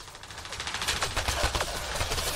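Rapid bursts of gunfire during a firefight in the video game Mass Effect Andromeda, a dense rattling fusillade of repeated shots that stays loud and continuous throughout.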